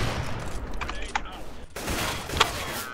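Gunfire in CS:GO: a few sharp shots and quick bursts crack over quieter background clatter, with one distinct louder shot near the end.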